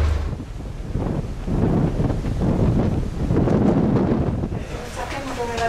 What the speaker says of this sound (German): Da ist so windig, da haut es der Löffel weg.